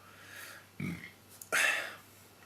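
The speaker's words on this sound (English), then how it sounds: "which has got a very nice sweet burp as well" A man burps after drinking Penn Dark Lager, a 5% dark beer from Pennsylvania Brewing Company; a short low belch comes first, then a louder, brighter burst a moment later, close and otherwise quiet.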